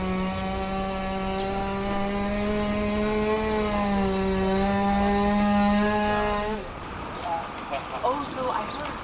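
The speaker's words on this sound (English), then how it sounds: "They're trying though, they got the chainsaws out." Chainsaws are cut loose on a storm-fallen tree the morning after a storm in D.C., a droning, pitched engine whine that wavers steadily for several seconds and then cuts off, leaving quieter street noise.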